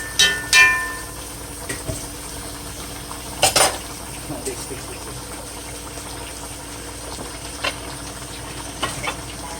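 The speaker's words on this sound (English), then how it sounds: "And you just want to stir this" A spoon knocks and scrapes against a pot while stirring Jamaican curry potatoes with butter beans, garlic ginger paste in the mix, giving a few sharp clanks early and midway over a low, faint background.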